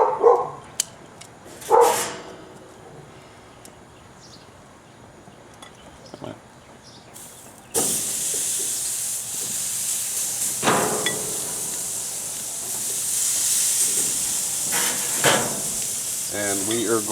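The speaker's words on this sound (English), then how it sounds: "So now we're going to place this on the grill." Beef fajita meat laid onto a hot grill, giving a few bangs and clatters before a loud sustained hiss of sizzling takes over and keeps going with scattered pops.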